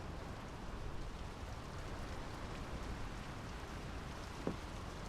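Steady rain falls over a Norwegian fjord village in the game Draugen, a dense, even hiss of drops at low volume with no break and no voices.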